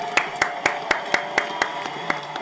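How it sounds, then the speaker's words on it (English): Regular single hand claps, about ten in steady rhythm, close and distinct above a low background hum, with no talking over them. "We gotta get the crowd clap."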